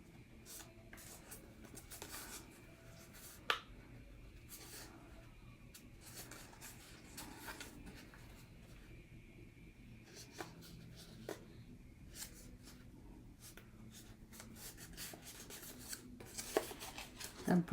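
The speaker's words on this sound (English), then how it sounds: "Just going to fold these edges." Paper edges being folded and creased by hand for a Halloween latte gift card holder craft, a steady faint rustling and rubbing with a few sharper crease snaps, close and quiet.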